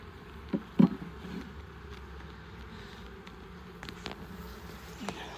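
Honeybees buzz around an open hive, a low, continuous drone of many insects filling the background, with a few closer bees passing briefly near the microphone, fairly faint with no talk.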